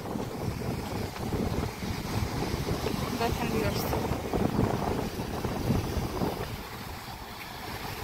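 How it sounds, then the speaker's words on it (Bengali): Large sea waves wash onto the seashore in a broad, steady roar, with strong wind buffeting the microphone. A voice speaks briefly over the surf. "বিশাল বড় বড় সমুদ্রের ঢেউ এখানে"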